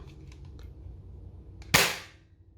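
A single sharp rifle shot fires in a Minecraft game, a loud crack with a short decaying tail, preceded by faint soft clicks.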